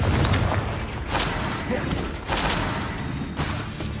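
Booming spell blasts from Confringo in the Hogwarts Legacy video game, several dense explosive bursts with thuds in a busy combat mix, one landing near the start and two stronger ones later, under constant spoken spell calls.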